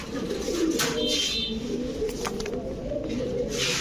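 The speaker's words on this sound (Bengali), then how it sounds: "গিরিবাজ কবুতর আছে" Low, throaty coos of giribaz pigeons roll on steadily, several birds murmuring together at close range with a few faint chirps above.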